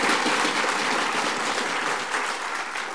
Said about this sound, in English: Yes, please applaud Aaron.